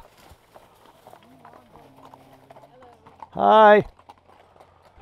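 Horse hooves clip-clop steadily at a horse rally in the Missouri Ozarks near the Jack's Fork River. The clopping is faint and continuous, and one person calls out a short, loud greeting.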